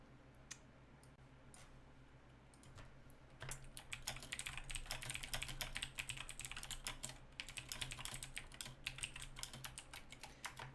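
Typing on a computer keyboard, soft at first and then a faster, busier run of close clicks and taps, quiet overall with no voices.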